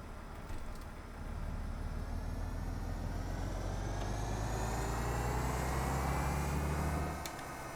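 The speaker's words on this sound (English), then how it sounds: "I want to hear those external engine sounds" IVECO Low Entry city bus in the OMSI 2 simulator, its diesel engine heard from outside as a low, steady drone that gradually rises in pitch while accelerating, faint overall, with no talking.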